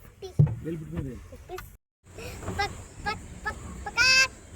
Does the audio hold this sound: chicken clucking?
yes